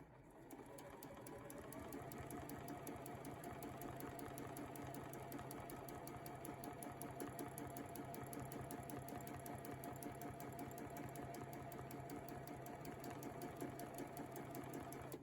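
A sewing machine runs steadily through free motion quilting, its needle chattering in a fast, even rhythm that holds for the whole stretch with no talking over it.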